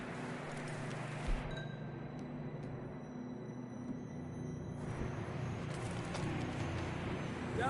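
Horses walking in the video game Red Dead Redemption 2, soft, faint clip-clop hoofbeats under a steady outdoor ambience with scattered bird calls.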